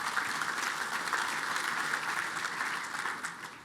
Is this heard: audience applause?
yes